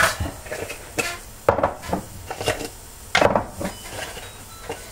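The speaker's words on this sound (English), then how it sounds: "Take all the lids back off." Lids being pulled off glass jars of refrigerator oatmeal, several sharp clacks and clinks of lid against jar in an uneven series, close and fairly loud, with softer handling rustle between.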